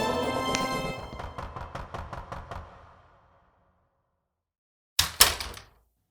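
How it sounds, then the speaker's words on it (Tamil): Knuckles rap a door in an empty room with a quick run of about eight knocks that fade out, then silence, then two louder, sharper bangs. "யாருமே இல்லாத ஒரு ரூமில் யாரோ ஒருத்தர் டோரை தட்டுற மாதிரி இருக்கும்"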